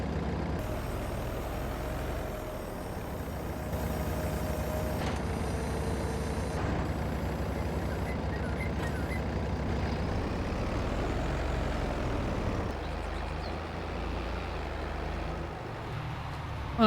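Old Fendt tractor engine in a farming video game, a steady continuous drone with shifting tones and a brief swell midway, loud and close with no talk over it.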